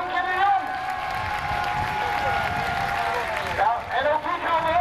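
Crowd applause at a grass-track motorsport meeting in Stadskanaal for an 18-year-old rider, sustained outdoor clapping and cheering from a large audience, with a public-address voice talking over it.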